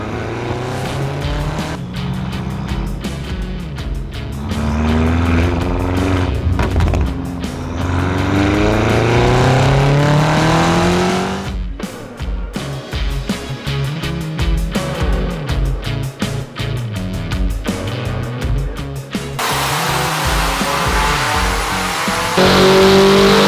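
A tuned BMW M5 with a stage 3 ECU tune and downpipes drives and accelerates hard, its loud engine revving up in rising sweeps, with gear changes, crackles and bursts of tire noise throughout.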